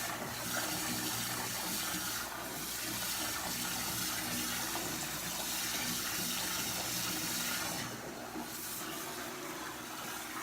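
Water from a tap running steadily into a bath, a loud, continuous rushing and splashing that fills the space and barely changes, heard close up with no talking.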